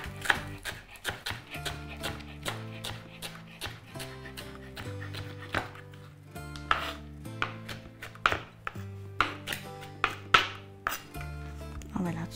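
Kitchen knife chopping fresh parsley on a board for asparagus with sauce, rapid uneven runs of crisp taps close by, with a light music bed underneath.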